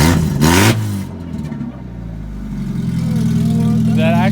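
A Mazda Miata engine with open headers barks and revs hard, then settles into a loud, raspy, uneven rumble, close by, with brief voices near the start.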